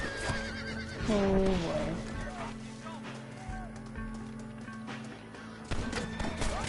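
A horse in the Red Dead video game lets out a loud, clear whinny early on, followed by trotting hoofbeats under game sounds and a person talking.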